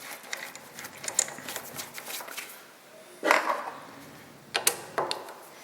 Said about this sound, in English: now we'll tap